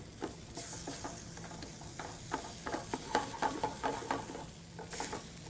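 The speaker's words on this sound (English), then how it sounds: "we're stir frying the rice, kind of for arborio, kind of sealing in the starch" Rice sizzles in a hot pan as a utensil stirs and scrapes it, stir-frying arborio rice for paella to get crunchy edges, with soft patter and clicks, close and quiet, no one speaking.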